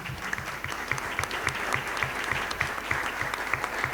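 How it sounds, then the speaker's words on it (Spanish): A church audience at an evangelical debate breaks into steady rhythmic clapping, a moderately distant round of applause with a regular beat, lasting several seconds without talk. "un aplauso pues para el hermano."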